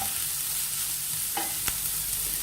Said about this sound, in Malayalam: നമുക്ക് സവാള ഒന്ന് വാട്ടിയെടുക്കാം.